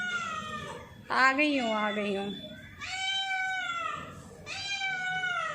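A pet cat meows repeatedly at home, three drawn-out, insistent cries close by with short pauses between them, loud and clear over a quiet kitchen background.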